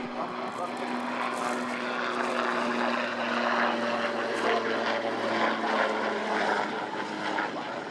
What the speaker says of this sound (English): This is the first, the Swiss Super Puma demo team.